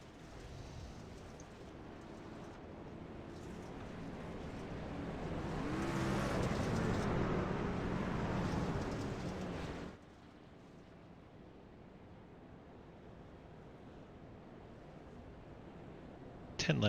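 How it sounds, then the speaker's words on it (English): A field of racing trucks rolls behind the pace truck at Bristol dirt track in a sim racing game, a broad engine rumble that swells to a louder pass in the middle, then drops to a quieter steady drone. "Pace truck gets a roll on."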